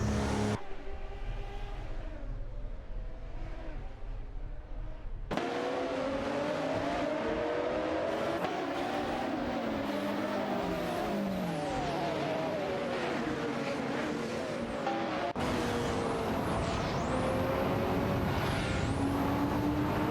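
McLaren F1 GTR race cars in a video game roar around the track, engines revving and shifting through gears as several cars pass in sweeping whines over a continuous drone.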